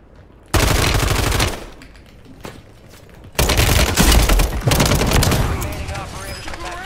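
Uzi bursts in the shooter Call of Duty Warzone, loud rapid volleys in two main stretches split by a short lull with an isolated shot, close and punchy, with a voice talking beneath the later firing.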